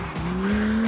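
A Lamborghini brakes heavily into a hairpin on a racing circuit, its engine droning loud and close with a steady tone and a faint tire squeal over about a second.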